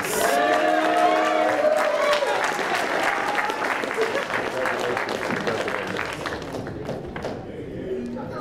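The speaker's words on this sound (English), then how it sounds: "Let's give one more big round of applause for the 23 graduates" Loud, sustained applause from a large audience at a graduation ceremony, with cheering voices mixed in, gradually thinning toward the end.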